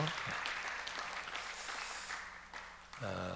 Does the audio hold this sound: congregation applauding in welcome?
yes